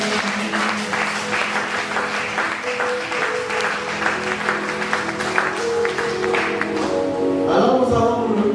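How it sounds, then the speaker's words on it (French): A congregation in a French-speaking church service applauds the Lord with steady, continuous clapping that fills the room, swelling slightly near the end. "Est-ce que tu peux acclamer le Seigneur?"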